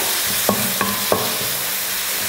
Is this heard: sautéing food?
yes